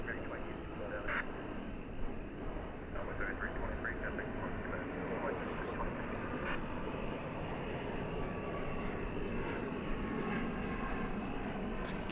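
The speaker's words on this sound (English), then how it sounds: "Here comes a flight from Louisville." Airplane arriving on a flight from Louisville at DFW Airport, a faint, distant, steady engine rumble with light scattered clicks and noises over it.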